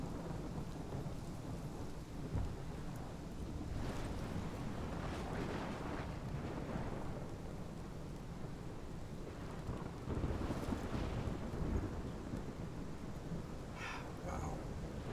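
Thunderstorm ambience in the video game Life Is Strange: steady heavy rain and wind with low rolling thunder swelling at intervals, a dense continuous wash throughout.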